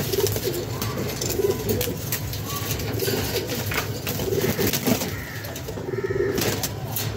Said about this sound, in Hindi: मैं आपको एक कबूतर का शौक करवाता हूँ